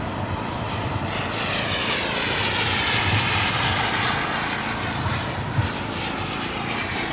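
A jet aircraft on final approach to land, its engine roar loud and steady throughout, a broad continuous rush with a slowly shifting whine on top.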